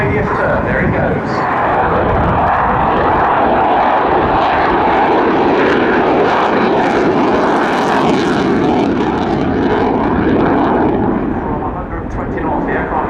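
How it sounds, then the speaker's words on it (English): Military jet at an airshow lighting its afterburner and pulling into a minimum-radius turn, a loud, sustained roaring rumble that fills the air throughout, with a commentator's voice over it. "putting the afterburner in and turning into a minimum radius turn"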